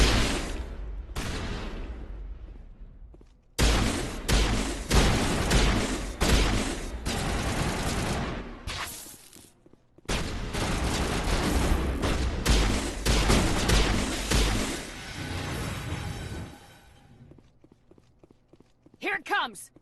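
Heavy gunfire in a video game blasts against the Rachni in long, dense bursts, with sharp pauses between volleys, under intermittent talk from a player.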